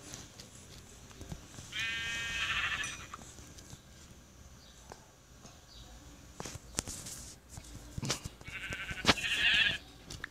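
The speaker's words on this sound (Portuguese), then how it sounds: "vamos caçar aqui a ovelha" Two short, wavering sheep bleats from Minecraft, one early and one near the end, rise over quiet game ambience with light clicks and footsteps in between.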